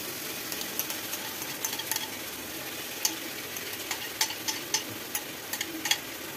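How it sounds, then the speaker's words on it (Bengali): Onion and garlic frying in a pan, a soft steady sizzle with scattered sharp pops and crackles and occasional stirring scrapes, heard alone without talk. "পেঁয়াজ আর রসুন ভাজা হয়ে যখন কাঁচা গন্ধ চলে যাবে"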